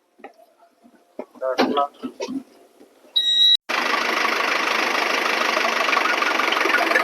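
A car engine cranks briefly and then catches, settling into a steady, loud idle that continues to the end, with a few voices and knocking noises just before it starts.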